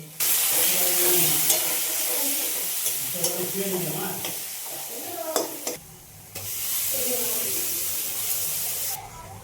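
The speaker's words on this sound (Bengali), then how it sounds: "এখানে ফোড়নে দিয়েছি গোটা জিরা গোটা গরম মশলা তেজপাতা" Whole cumin, whole garam masala and bay leaf tempering in hot oil give a steady, close, loud sizzle with bursts of stirring. Voices are heard under it, and a brief quieter gap comes near the middle.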